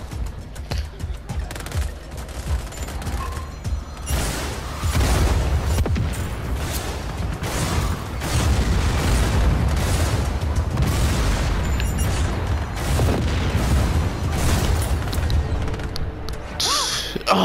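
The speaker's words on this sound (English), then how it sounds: "I will see that explosion for miles, Rico." Loud sustained gunfire and booming blasts from the Just Cause 4 video game, continuous dense combat noise with explosions rolling through, while players' voices talk over the action.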